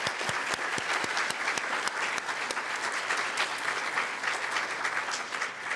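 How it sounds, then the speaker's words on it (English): An audience at a science talk at the American Museum of Natural History breaks into a steady, dense round of applause that fills the whole stretch, with a few sharper claps standing out near the start. "So let's give them a round of applause."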